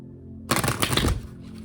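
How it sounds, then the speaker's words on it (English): A quick burst of oracle cards being shuffled, a dense fluttering riffle lasting under a second after a moment of quiet. "when I shuffle these, it shoots all the other cards onto my lap"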